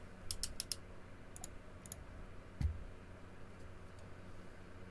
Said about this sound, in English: As he's typing in the chat.